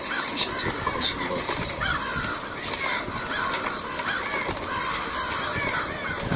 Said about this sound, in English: If I touch the cages, it will alert the birds just like this.